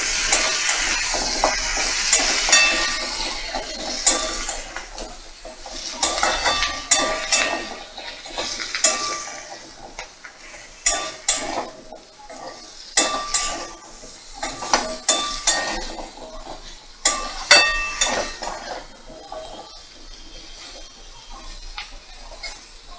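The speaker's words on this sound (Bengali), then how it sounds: "মিডিয়াম ফ্লেমে দিয়ে ভালো করে নাড়াচাড়া করে নেব" Pumpkin and potato pieces stirred in a pan over a medium flame, with repeated scraping and clinking of a utensil against the pan over a soft steady sizzle, close up and with no talking.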